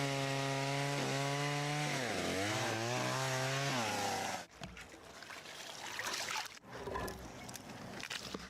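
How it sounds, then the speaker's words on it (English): A chainsaw runs loud and close for about four seconds, its engine pitch dipping and rising as it bites into ice, then cuts out, leaving scraping, splashing water and rough ambient noise. "But this time he brought a chainsaw to spice things up a bit."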